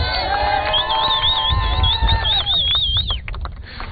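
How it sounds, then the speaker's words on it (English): An audience at a live show cheers and shouts at moderate distance, a dense mass of voices under a loud warbling whistle or horn tone, fading out over the last second. "Why are you cheering her so much?"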